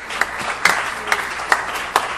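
Congregation applause during a Spanish-language Christian worship service, with bursts of clapping pulsing in a steady rhythm across a few seconds and a moderate, roomy sound.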